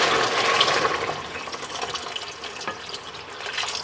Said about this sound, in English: And now I'm going to hit it with the water. Hear that sound?